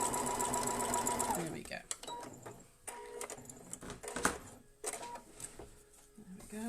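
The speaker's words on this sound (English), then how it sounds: "And then again with this last one, stitching down the line." Sewing machine chain-piecing an arrow quilt block, running steadily and loud for the first second and a half, then stopping while a person speaks briefly amid light handling noises.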